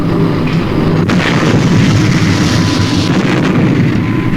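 A weapon fires in the Supercar puppet TV show, a dull boom with rumbling low blast noise near the start, then continuing heavy rumble throughout.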